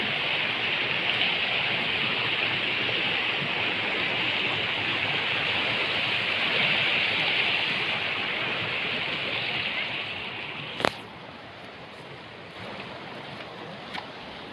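A main jungle waterfall on a forest outing, a continuous loud rushing roar of falling water filling the whole stretch, with a sharp knock near the end.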